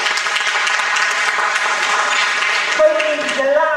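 An audience claps steadily in a newly renovated auditorium, a dense, sustained wave of applause that holds loud throughout, with a faint voice surfacing toward the end.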